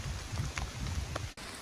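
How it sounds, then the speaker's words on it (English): Rain falls steadily on a mountain trail near Cascade Mountain, a soft continuous patter with occasional louder drops, close and unbroken, with no voices. "No storm yet, but definitely raining."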